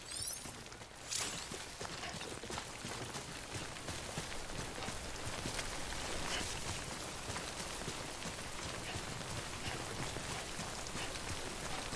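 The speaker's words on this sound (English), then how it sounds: "Don't stay out in the rain any longer than you have to." Timefall rain in the video game Death Stranding, a steady, dense patter of raindrops on surfaces that fills the whole stretch at moderate volume, with faint scattered footstep-like taps.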